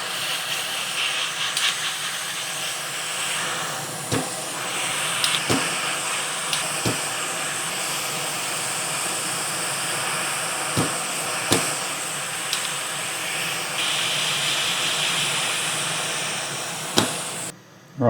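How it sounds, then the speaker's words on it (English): A heat gun with a nozzle blows a steady airy hiss while solder is removed from the holes of a PS5 board, with occasional faint clicks and taps over the constant rush. "we're going to come back in with the heat gun and our solder sucker and just remove the solder from the holes"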